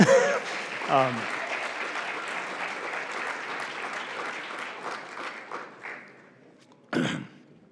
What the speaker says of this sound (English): please let me hear the clapping